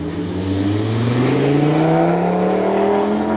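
A Lamborghini Aventador V12 engine revs hard toward its red line, the pitch climbing steadily and loudly over a few seconds with no talking.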